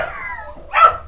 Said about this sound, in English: I've got 3 miniature schnauzer puppies.